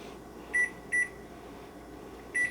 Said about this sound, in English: We're going to set the timer for about 25 minutes.